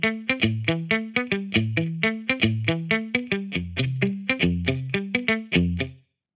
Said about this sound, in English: I am, of course, using an amp simulator, using a Marshall stack